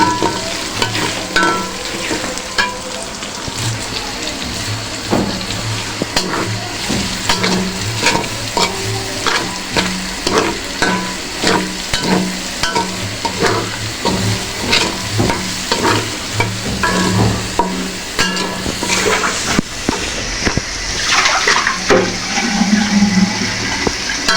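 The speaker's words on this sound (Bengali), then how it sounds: "এখন পেঁয়াজগুলো ভেজে নিচ্ছি" Onions frying in a kadai that has just held browned meat for a chicken roast: a loud, constant sizzle broken by a steady rhythm of spatula scrapes and stirs, close up and without voices.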